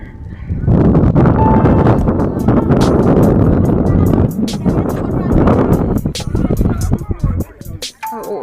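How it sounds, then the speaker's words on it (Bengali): Steady wind blowing across open ground at Marble Lake in Purulia, a loud continuous rush buffeting the microphone for the whole stretch, easing slightly near the end. "এত সুন্দর হাওয়া বইছে"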